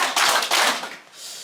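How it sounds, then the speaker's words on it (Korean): A church congregation at a Dongtan gospel meeting claps three times in unison, each clap a broad, roomy burst filling the hall. "박수 3번 시작"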